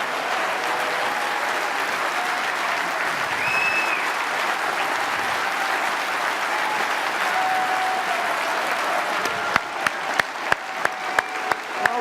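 An audience at a Westminster event applauds a panel of speakers, a loud, dense and steady wash of clapping that lasts throughout, with a few sharper individual claps standing out near the end.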